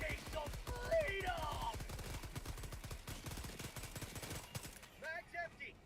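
Rapid automatic gunfire rattles in a video game, a dense burst of quick shots lasting several seconds under a man's speech before trailing off.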